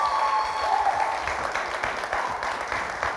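Studio audience applause at a live TV entertainment show, a dense, steady wash of clapping and crowd noise that holds loudly throughout with no pauses.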